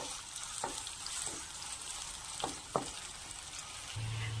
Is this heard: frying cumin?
yes